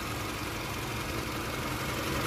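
A 2008 Toyota Camry engine idles steadily, a continuous close, even mechanical hum with no talking over it.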